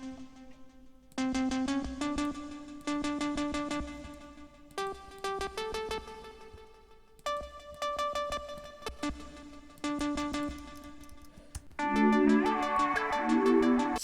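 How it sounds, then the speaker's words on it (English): A Serum software synth with its arpeggiator on plays a basic three-note arpeggio, bright plucked tones stepping up in quick, even notes, repeating in phrases with short gaps between them. "So let's just make a basic 3-note ARP here."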